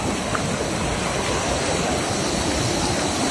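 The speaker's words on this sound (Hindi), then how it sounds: "ये सामने से दूध सागर वाटरफॉल है।" Dudhsagar waterfall roaring as a dense, continuous broadband wash of falling water, loud and steady throughout with no voices.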